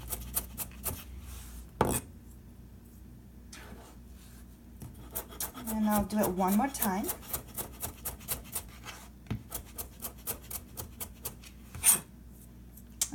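A knife dices fresh ginger on a cutting board, making a rapid run of sharp, close chopping taps in steady bursts, with a brief spoken line partway through.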